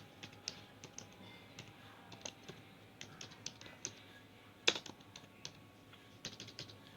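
Typing on a computer keyboard while writing text in Microsoft Word, with quiet, irregular key clicks in short bursts and one sharper keystroke, close and alone.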